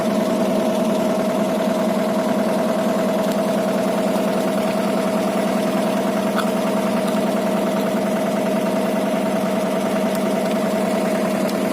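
A tractor engine idles steadily in a farm field, a loud, even mid-pitched chug with a constant hum and no breaks.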